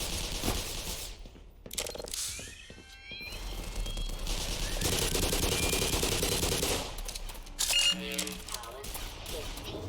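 SMG and tank cannon gunfire in the Black Mesa video game, with bursts of rapid shots and a few heavier booms over game noise and a steady background, while someone talks throughout.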